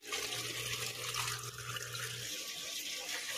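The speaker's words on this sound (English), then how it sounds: "What I will do is to add water, and then we are ready to feed this to my" Tap water runs steadily into a container of brine shrimp being prepared as food for fish fry. The pour is continuous and moderately close, with a faint low hum underneath for the first few seconds.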